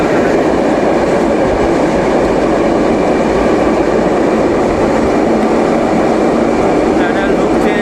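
Malwa Express train from Katra toward Jammu heading into a long tunnel, a loud, steady broadband rumble of wheels and carriage noise filling the space, with faint clicking and a brief high squeal near the end.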